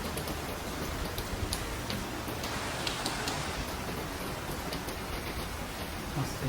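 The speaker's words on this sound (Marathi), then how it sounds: "एकदम रिमझिम पाऊस" Light rain patters steadily, with faint scattered drips and ticks over a soft continuous hiss.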